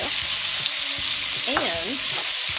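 A large yellow onion sizzling in a hot pan, a steady bright frying hiss with a few stirring scrapes and clicks, heard alone.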